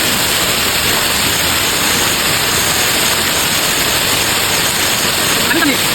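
A waterfall in Meghalaya, India, with slippery rocks around it, roars as a loud, dense, unbroken rush of falling water throughout.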